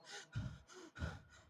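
A voice imitates the rapid panting breath of a galloping horse, quiet and close, with alternating huffs and gasps in a quick, even rhythm of about four breaths.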